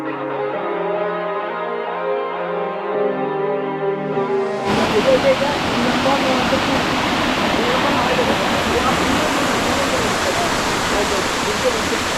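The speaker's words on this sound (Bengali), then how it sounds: "দেখেন আন্দারমানিক ঝর্ণা" Andharmanik waterfall in the hill forest roars as a dense, broadband rush of water that starts abruptly midway, after a stretch of tonal music.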